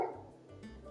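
A dog barking in the video game Final Fantasy XV, a few short quiet yaps and whimpering sounds heard alone at low level.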